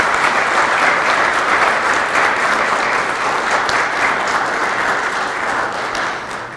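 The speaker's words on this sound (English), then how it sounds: "I would like everybody in the audience to give these guys a round of applause." Audience at a town hall meeting giving a sustained round of applause, dense steady clapping from a full room that fades slightly toward the end.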